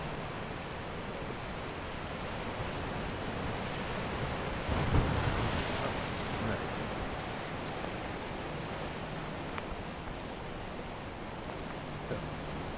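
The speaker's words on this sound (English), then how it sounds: "See the waves coming up." Steady wash of Pacific Ocean surf breaking on shore at Ucluelet, British Columbia, with a soft swell in the middle, continuous and moderately distant, mixed with some wind noise.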